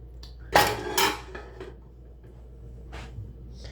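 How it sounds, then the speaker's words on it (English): A hot frying pan being washed in a kitchen sink, with two sharp metallic clanks close by, a quieter scrape, then a later soft clatter over low background hum. "you really want to clean a pan like this while it's hot"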